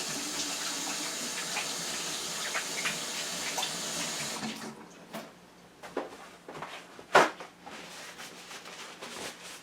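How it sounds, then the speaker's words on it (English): Hands washed under a running kitchen tap: a steady close water rush for about four seconds, then the flow stops, giving way to scattered splashes, drips and a sharp knock. "Just so I wash my hands."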